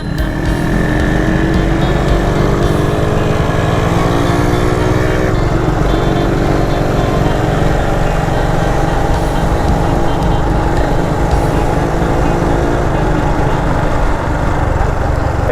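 A Yamaha TZR150 two-stroke motorcycle runs loud and close, its buzzing engine note rising and falling steadily as it is ridden, with occasional voices underneath.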